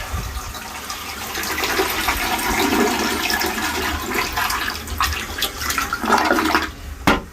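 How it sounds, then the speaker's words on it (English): An old 1970s toilet with an oversized, overfilled tank flushes powerfully, a loud rushing gush of water swirling and draining close up for several seconds before gurgling as it empties. "this is an old 1970s tank, so it's bigger than modern tanks, and I'm overfilling it, so this thing is like super power, turbocharged, super flush"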